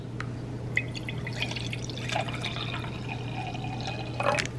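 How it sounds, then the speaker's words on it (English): Water drips and trickles into a glass to mix a supplement drink, a faint, close splashing with small bright drops over a steady low hum. "let me get some water to mix this in"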